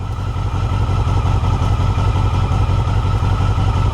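A 1982 Yamaha XJ650 motorcycle engine running roughly on choke, a steady loud low chugging with rhythmic mechanical clatter throughout, close by and with no one talking.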